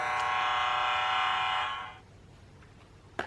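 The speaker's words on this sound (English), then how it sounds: "Look out for the train. Choo choo." A toy train sound effect from a children's sound book, a loud steady horn-like tone held for about two seconds before fading out, then followed by a faint click.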